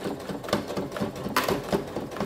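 Sewing machine stitching a fabric soap pouch, a continuous close rattling hum with rhythmic needle pulses and slight speed changes, no speech.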